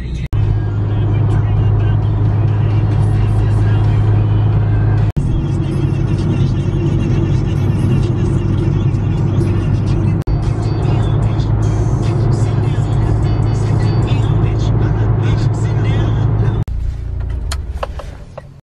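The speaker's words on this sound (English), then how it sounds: "I cannot believe there's this much traffic on the weekend." Steady, loud road and engine drone fills the cabin of a Mitsubishi Lancer Evolution IX cruising in weekend freeway traffic on a long California drive, a constant rumble with small shifts in tone throughout.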